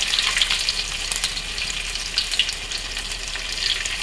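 Small peeled shallots fry in hot sesame oil with fennel, cumin and garlic, giving a continuous close sizzle and crackle with occasional stirring.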